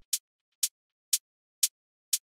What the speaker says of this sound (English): So the first thing that we have on the hi-hat side is this bright hat